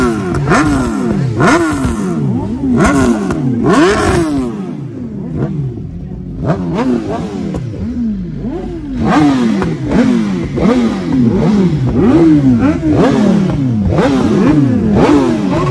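A Ninja H2 motorcycle engine revving hard in repeated sharp bursts, each rising and falling pitch sweep loud and close, with a short idle lull midway before more rapid revs.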